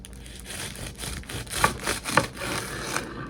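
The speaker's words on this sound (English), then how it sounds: "I'm going to get me a knife so that I can cut through it easily." Serrated bread knife sawing through a breadless pickle sandwich, a few rough rasping strokes with sharper crunchy bursts midway, close and fairly loud with no talking.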